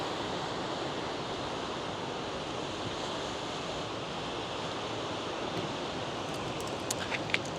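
Ocean waves wash steadily on a shore, a constant close roar of surf with a few faint light ticks near the end and no talking.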